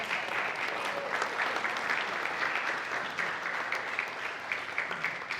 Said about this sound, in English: Let's give her a round of applause.